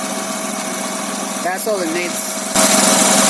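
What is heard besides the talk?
2003 Honda Accord V6 engine idling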